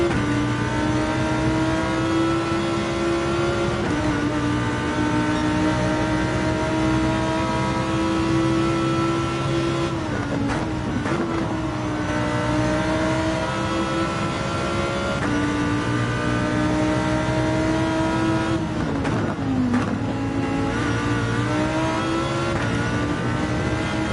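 A race car engine drones loudly and steadily in a sim racing game at night, the driver feathering the throttle so the pitch wavers and dips briefly twice before climbing again, with no talking.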